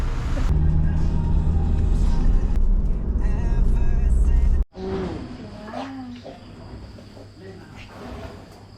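A car left idling near elephants in Chiang Mai, Thailand: a steady low engine rumble close by that cuts off sharply halfway through, followed by quieter mixed background noise and animal-like calls.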